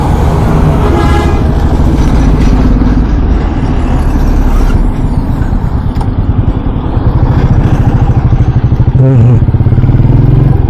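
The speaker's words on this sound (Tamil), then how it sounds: "இன்னும் வந்துட்டே இருக்கு வண்டி. பாருங்க எவ்வளோ வண்டி பாருங்க." A long convoy of military vehicles rolls steadily past on a road, a continuous loud engine rumble with horn toots and air-brake hisses, while voices talk over it.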